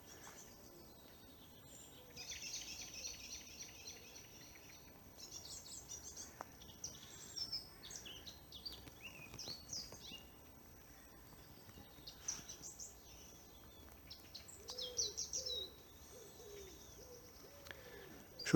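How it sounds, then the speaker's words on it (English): Faint, distant wood pigeon cooing drifts through quiet woodland ambience in Plymouth in April, soft cooing phrases and scattered chirps over low background hiss. "you can hear the distant cooing of the wood pigeon, the ring-necked dove"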